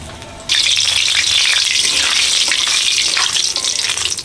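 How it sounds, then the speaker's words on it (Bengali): Dried red chillies hit hot white oil with a sudden loud sizzle that stays bright and crackling, with faint stirring noises underneath. "সাদা তেল দিয়ে দিচ্ছি তেল গরম হয়ে গেছে শুকনো লঙ্কা দিয়ে দিচ্ছি"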